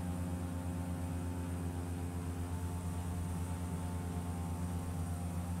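A Cessna 208 turboprop begins its takeoff roll, a steady loud engine drone with propeller hum and strong low tonal bands holding constant throughout, with no voices.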